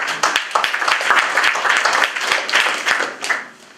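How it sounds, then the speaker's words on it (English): An audience at a lecture on democratic self-defence applauds after a speaker's introduction, dense clapping that swells quickly, holds steady, then thins out and fades at the end. "Give a round of applause."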